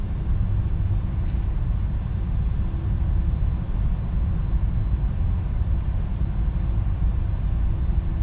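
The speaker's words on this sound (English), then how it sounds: "There's going an airplane taking off" An airliner, a KLM 737-800, takes off in the Prepar3D flight simulator, giving a steady, broad engine roar that holds even for several seconds without talk.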